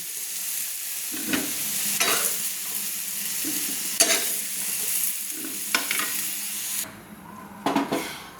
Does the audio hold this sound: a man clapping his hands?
no